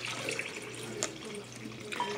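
Liquid poured into a homemade slime mixture, heard as a soft, steady trickle that lasts about two seconds, with a low hum running underneath.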